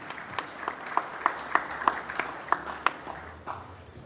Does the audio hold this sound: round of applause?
yes